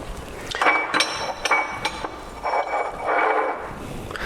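Portafilter fitted and twisted onto a De'Longhi EC680M espresso machine, giving several close metallic clinks and scraping knocks in quick succession.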